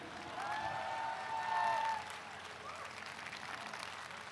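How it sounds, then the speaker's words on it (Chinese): Audience at a jazz festival in Taichung applauding a jazz quartet, a broad wash of clapping with light cheers that swells briefly and then settles, while a voice speaks over it early on. "再一次最热情的掌声，我们谢谢 Omaya Oyama Hideo Quartet"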